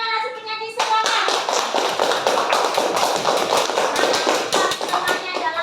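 Classroom of students applauding a group of singers after a tonal voice at the start, then loud, close, brisk clapping from many hands filling the rest, with a few sharper claps standing out.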